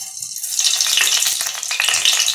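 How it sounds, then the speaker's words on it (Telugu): Fenugreek seeds hit hot oil in a kadai pan, giving a steady, loud crackling sizzle with bright hiss and scattered pops throughout, no voices. "ఆయిల్ కాగింది కదా, చిన్న స్పూన్ మెంతులు వేసుకోవాలి"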